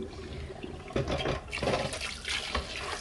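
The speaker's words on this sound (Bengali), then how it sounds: "মাছগুলো ভিজে গেছে প্রায়, পানিগুলো ফেলে আবার নতুন পানি দিব" Water splashes and pours off fish soaking in a bowl, a few uneven bursts of gushing and trickling liquid at close range with no talk.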